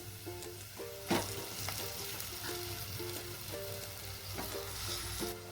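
Cooked mustard greens for sarson ka saag are stirred into spices already fried in a pan. A steady sizzle runs throughout, with scraping clicks of stirring and a sharp clatter near the start, over a faint tonal hum.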